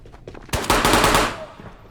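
Close burst of MAT 49 submachine gun fire in the video game Ghosts of Tabor, aimed at long range: a fast automatic rattle of about a second after a few quieter shots, with a short tail fading out. No one talks.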